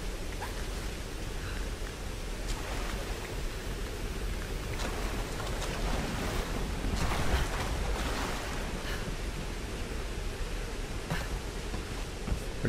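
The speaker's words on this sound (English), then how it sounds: "It's a fucking waterfall." A waterfall rushing steadily in the Tomb Raider (2013) video game, a dense, broad roar of falling water that holds at an even, fairly loud level throughout with no pauses.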